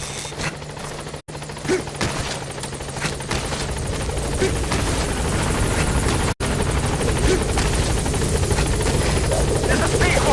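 Helicopter rotor thump and engine drone from the Metal Gear Solid V video game, loud and continuous throughout, with two very brief dropouts and radio-style voice chatter layered over it.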